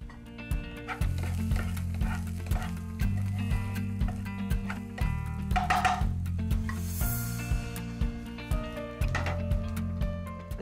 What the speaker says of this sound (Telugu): ఇప్పుడు ఈ పొటాటోస్ని ప్యాన్లో వేసుకుందాం.